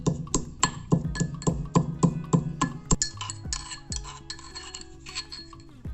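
Black pepper, two cloves, a quarter inch of ginger and several tulsi leaves being crushed fine for ayurvedic tea: a steady series of sharp, close knocks, then looser scraping and clinking toward the end.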